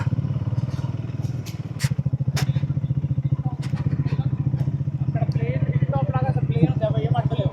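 Triumph Speed 400 motorcycles idle and pull away on a rural road near wind turbines, a steady throbbing engine note running throughout with a few clattering thumps, while people talk over it.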